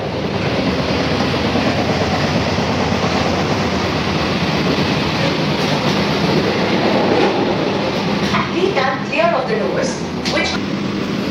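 An AC local train runs between Ranaghat and Sealdah, a steady loud rumble and roar from inside the carriage with faint rhythmic clatter, and a voice talks over it near the end.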